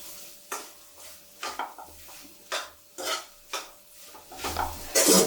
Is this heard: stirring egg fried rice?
yes